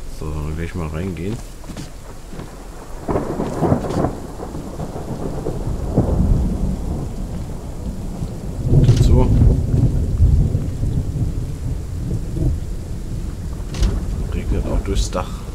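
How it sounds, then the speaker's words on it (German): Thunder and rain fill a stormy scene in the Old West survival game Outlaws of the Old West, with repeated heavy rumbles and a constant rain hiss while a person speaks over it. "Sieht gerade ein Gewitter auf."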